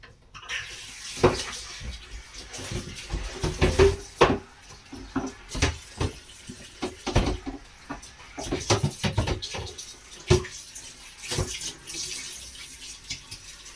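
Dishes being washed under a running kitchen tap: irregular clinks and knocks of crockery and pans over a flowing-water wash, close by, with no talking.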